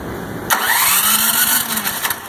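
A Craftsman 30-inch 357cc snowblower engine catches abruptly and settles into a loud, steady mid-pitched running drone, close by with no talking.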